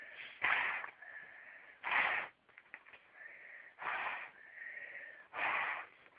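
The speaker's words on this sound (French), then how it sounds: "Donc vous soufflez pour que ça fasse une belle bombe." Someone blows air in four strong, breathy bursts to inflate a homemade water bomb, close and loud, with quieter whistling breath between puffs.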